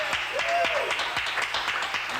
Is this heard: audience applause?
yes